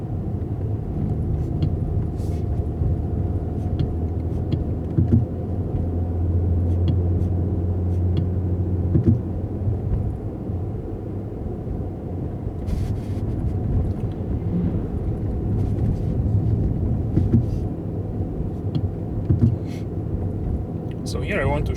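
Engine of a 2020 Mercedes-AMG GT 4-door coupe in Sport Plus, a deep steady rumble heard from inside while driving on a highway, with brief crackles and a swell in the middle.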